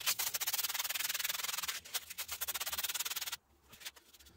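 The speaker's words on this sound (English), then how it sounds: "We're gonna have to go through with the sandpaper and actually clean that up a lot more." Sandpaper scrubs a rough-shaped handmade potato-masher-style prop in rapid back-and-forth strokes. A brief pause breaks the steady rasping before it fades to quiet.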